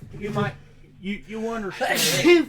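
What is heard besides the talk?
sneeze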